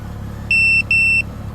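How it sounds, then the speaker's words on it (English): Two clear electronic beeps, each about a third of a second long with a short gap between them, come from a California smog check machine testing a tuned 2000s BMW 335i E93 with an N55 engine. A low hum sits underneath. "The 2 beeps mean they're good."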